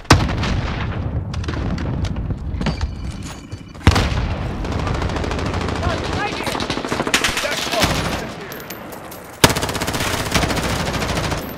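Rapid bursts of automatic rifle fire and heavy gunshots in the Call of Duty trios battle mode at Quarry, loud and close with sharp onsets and sustained fusillades, while players talk quietly underneath.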